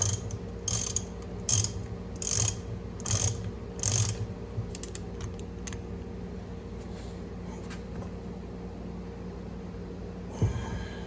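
A ratchet tightens the nut on an NP231 transfer case during a slip yoke eliminator install, clicking in six quick close bursts, then fainter scattered clicks over a steady low hum, with no talking.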